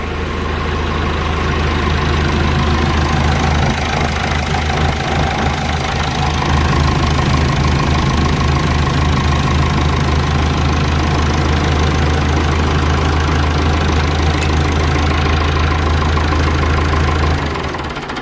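A Massey Ferguson 180 tractor's diesel engine idles slightly low with a steady, loud knocking rumble that runs unbroken for the whole stretch, with no talk over it.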